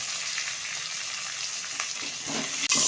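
Chopped garlic and green chili fry in a pan with a steady, close sizzle and crackle, a faint clatter of stirring near the end.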